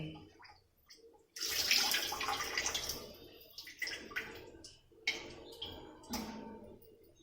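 Water splashes and runs in uneven bursts as kingfish and other fish are rinsed, with occasional clatters and knocks close by, and no voices.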